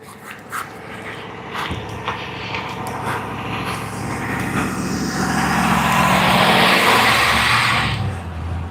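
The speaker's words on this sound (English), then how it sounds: "I got someone driving around really slow" A car creeps slowly through a gated residential neighborhood, its engine and tire noise swelling gradually to a broad, loud rush and then easing off as it moves away.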